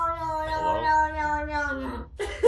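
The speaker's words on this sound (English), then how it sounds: "Is that cat trying to speak?" A cat gives a drawn-out, tonal meow with speech-like wavering pitch, loud and close for about two seconds, followed by a brief sharper vocal burst at the end.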